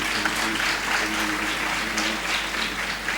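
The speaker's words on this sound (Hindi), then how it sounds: "आप सभी से अनुरोध करती हूँ जोरदार तालियों से स्वागत करते हैं गीता महालिक जी का।" An audience applauds in welcome of Odissi dancer Padma Shri Geeta Mahalik, steady dense clapping that stays even throughout, with no voices over it.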